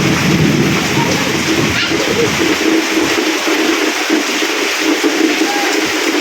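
Heavy rain pouring down outdoors at a village home, a dense, loud, continuous roar of drops hitting surfaces with no break.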